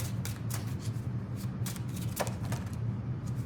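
Tarot cards from a Wisdom of the Tao deck are shuffled by hand in a steady, continuous papery riffle with soft repeated snaps, close and fairly quiet over a low background hum, with no talking.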